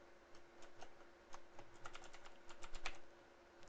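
Quiet, quick keystrokes on a computer keyboard as a word is typed into a web browser address bar, a brief irregular run of soft clicks with no voices.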